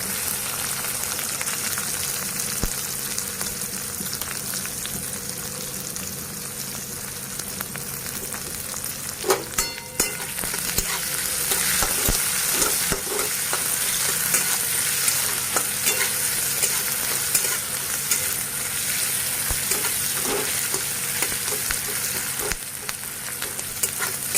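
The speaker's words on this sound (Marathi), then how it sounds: "आता ही कडीपत्त्याची पानं टाकू ही बारीक हे उभा चिरल्याला कांदा टाकून घेऊ" Curry leaves and sliced onion fry in hot oil for a cabbage sabzi, producing a loud, continuous close sizzle broken by occasional stirring clatter, with no talk.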